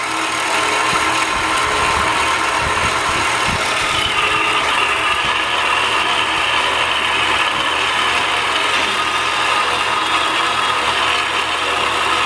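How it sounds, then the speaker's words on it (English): A Harbor Freight-style hobby bandsaw cuts a 1095 steel knife blank held in vise grips, giving a loud, steady mechanical grinding drone that runs throughout, close up and with no voices. "this bandsaw that I got here, it's a hardback"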